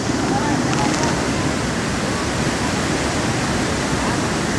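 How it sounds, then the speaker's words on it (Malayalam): Water at Valanjanganam waterfall plunges down in a steady, dense roar of broadband rushing noise, loud and close throughout, with no talk. "ആ വെള്ളം വന്ന് ഇതിലാണ് താഴേക്ക് പതിക്കുന്നത്"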